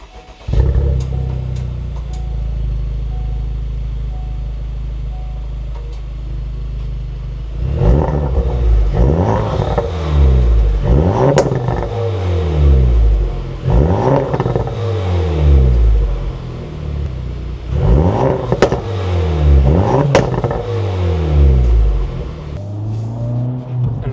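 A modified, tuned Honda Civic Type R FL5 engine idles after warm-up, then revs sharply up and down in a series of loud climbs, with a short pause between bursts and no talk.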